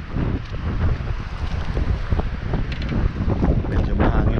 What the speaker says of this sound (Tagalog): Medyo mahangin po yung panahon ngayon